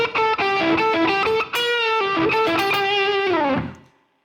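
A Stratocaster through a Friedman Dirty Shirley amp, middle pickup selected, plays an overdriven blues lick: bent and sustained notes with gritty distortion, close and loud, finishing on a long held note that fades out.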